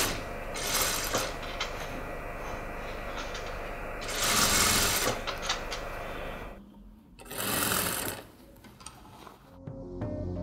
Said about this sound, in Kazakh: Енді қолтығын тура осы әдіспен қайталап тігіп шығамыз.